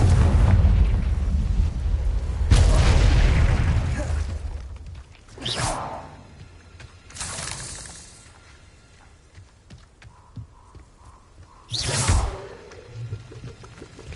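A Confringo spell is cast in the Hogwarts Legacy video game, bursting as loud fiery blasts with whooshing tails: a heavy boom at the start, then several shorter explosive bursts spaced apart over quieter game ambience.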